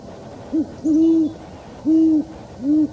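A great horned owl hoots four times in a slow, deep rhythm, fairly close and alone against a quiet night background in Yosemite National Park.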